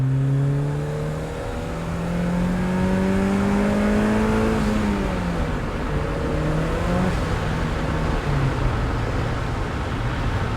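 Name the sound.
1987 Porsche 944 Turbo engine and blow-off valve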